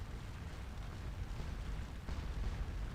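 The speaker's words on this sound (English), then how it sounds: "Quite a bit of artillery fire." Artillery fire and airburst shells in the Scourge of War: Waterloo battle game, heard as a continuous low, rumbling barrage of distant booms with no distinct individual blasts.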